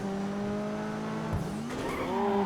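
Coquette D5 sports car in GTA Online braking hard and pulling away, a steady engine tone that dips sharply mid-way with a brief tire chirp, then rises again as the car accelerates, close and continuous.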